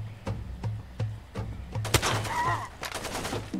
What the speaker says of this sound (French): J'arrive pas à voir d'où il tire, le mec.